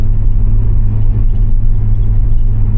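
A tuned Audi S6 Avant engine held at full throttle, a steady deep, loud rumble heard from inside the car with no break across the short stretch.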